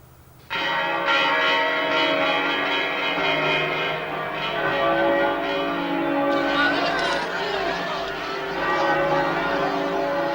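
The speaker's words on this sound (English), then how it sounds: "The church bells began to ring." Church bells ringing at the end of the Spanish Civil War, a full peal of overlapping bell strikes that rings out loudly and continuously for about ten seconds with sustained resonant tones.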